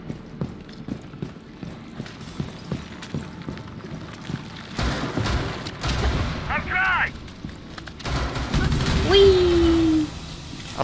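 A frag grenade explodes in the Rainbow Six Extraction video game, with a broad booming blast partway through and a second heavy burst later, under ongoing team chatter and game noise.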